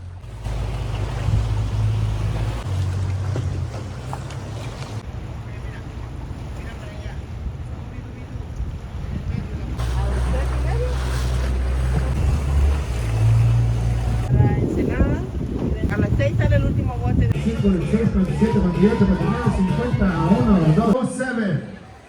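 Boat engine rumbling with wind and waves during an excursion on the Pacific Ocean, steady and loud throughout, with people talking over it in the later part.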